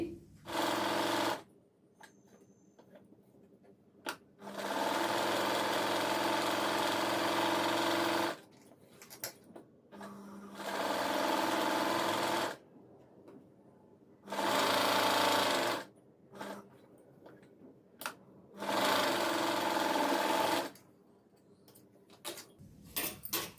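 A sewing machine stitches the side joints and sleeves of a blouse in four long, loud whirring runs. Short pauses and faint handling noises separate each run.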